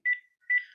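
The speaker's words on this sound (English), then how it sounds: "my door is ringing" A doorbell rings twice in quick succession, two short bright electronic tones with a brief gap, clear and alone in a quiet room.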